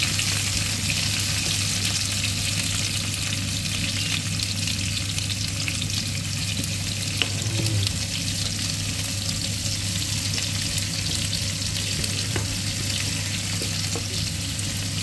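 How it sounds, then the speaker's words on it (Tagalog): Chopped garlic and onion sauté in a hot pan with a steady, even sizzle that holds for the whole stretch. A low hum sits underneath, and a faint stir or scrape comes through once midway. "ginigisa po natin muna ang bawang at sibuyas"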